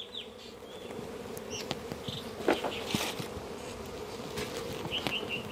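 Honey bees buzz in a beehive box, a dense, continuous drone of many insects close by, with a few sharp clicks and taps from the box itself.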